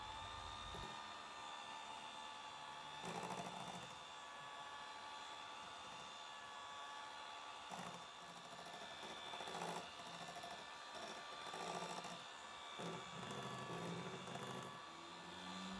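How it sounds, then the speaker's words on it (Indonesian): Electric hand mixer running at its lowest speed through lapis legit cake batter made with butter, a steady faint whir that holds throughout with slight swells as the beaters move through the bowl. "Nanti mau aku aduk dengan menggunakan mixer. Kita pakai kecepatan yang paling rendah"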